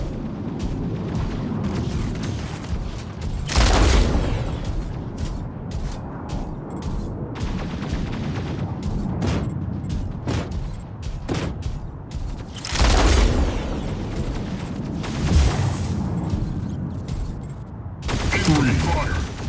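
Gunfire and explosions from the mech combat video game Mech Arena, with sustained rumbling fire broken by several loud, punchy blasts near 4, 13 and 19 seconds, while a voice speaks over parts of it.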